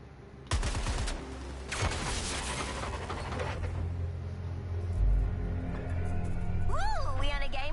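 Gunfire at a junction box in Suicide Squad: Kill the Justice League comes as two loud bursts of shots over a rumbling game backdrop, followed by a voice near the end.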